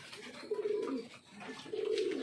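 Pigeons coo softly in a coop, two low, rolling coos heard close but quiet with faint background noise.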